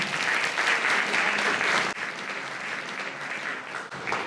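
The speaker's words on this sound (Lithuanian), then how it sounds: "gausiais plojimais pasitikime Nojų Majauską" An audience gives a warm round of applause to welcome a guest to a school talk event. The clapping is dense and continuous at moderate loudness, with a brief dip partway through before it carries on.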